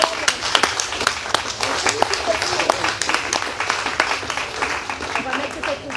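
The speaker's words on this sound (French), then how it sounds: "je pense qu'on peut les applaudir" An audience applauds award winners at a book festival gathering for a group photo, a crackle of clapping heard under light talk nearby.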